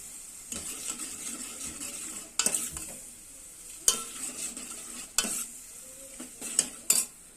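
A steady frying sizzle of green chillies and onions tempering in oil runs under a spatula clattering and scraping against a pan every second or two.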